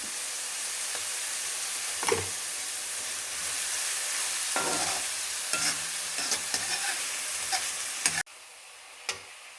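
Steady sizzling of onions sautéing in a pan, with occasional scraping stirs and clinks, then it abruptly drops to near quiet near the end.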